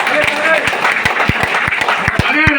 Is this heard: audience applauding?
yes